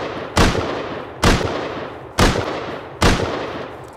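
Four loud, sharp gunshots spaced about a second apart, each with a long decaying echo, fired during an online raid battle in a multiplayer survival video game.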